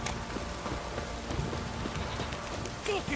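Heavy downpour in the video game Witcher 3, a constant dense patter of rain on surfaces with scattered heavier drops, and faint hoof-like clopping underneath.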